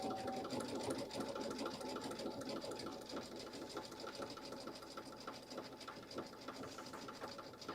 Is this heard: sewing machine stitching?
yes